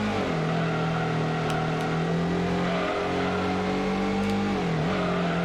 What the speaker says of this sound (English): it changed the sound of the engine too.